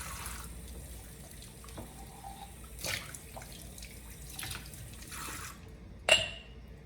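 Cold tap water runs steadily while glass canning jars are rinsed in a sink, with a continuous hiss, a few splashy surges and a sharp clink of glass near the end.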